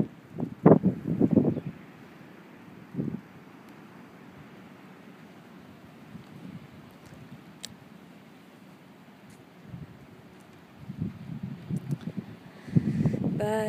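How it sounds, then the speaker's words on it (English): Wind gusting across the Atlantic shore at St Augustine, a steady low rumble of buffeting against the microphone with stronger bursts at the start and end. "It's a little windy."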